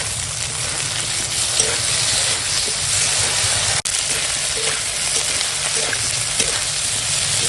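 Chopped vegetables fry in a pan with ginger, coriander and cumin paste, giving a loud, continuous sizzle and crackle that holds steady with no voices.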